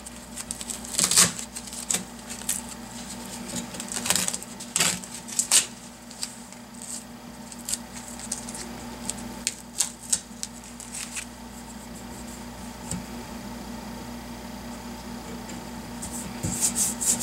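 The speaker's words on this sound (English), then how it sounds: "now that the paint is dry, we can remove the tape" Masking tape being peeled off freshly painted Saiga 12 shotgun parts, heard as quiet, irregular rasping rips and rubbing scrapes close by, with longer pauses between pulls and no voices.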